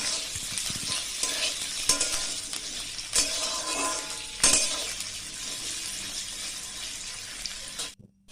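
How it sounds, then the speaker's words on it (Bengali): Potatoes fry lightly in a pan for a bhindi posto dish, giving a steady loud sizzle broken by a few sharp stirring scrapes before cutting off near the end. "আলুগুলোকে হালকা ভেজে নেব।"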